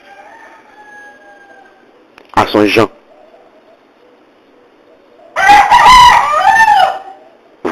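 A rooster crows once in the background with a drawn-out call, followed by someone speaking French loudly in the foreground.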